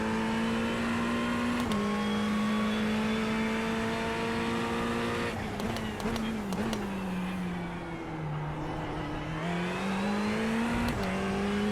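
A sim race car engine in a racing video game, held under throttle: a steady, strong engine whine that climbs through the gears, with brief shift breaks and a dip as it lifts and then pulls again.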